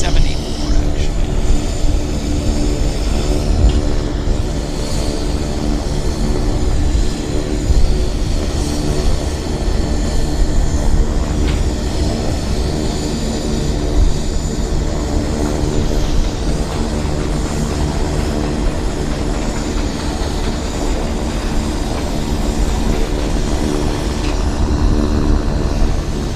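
WestJet flight 1774 departing Vancouver for San Francisco, a loud, steady roar of airliner engines that fills the whole stretch without letting up, with voices talking over it at times.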